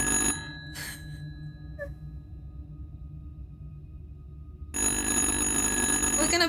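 A telephone ringing in the horror game Little Hope, with tonal ring bursts near the start, a quiet stretch with a low hum, then a loud return of the ringing and game sound near the end.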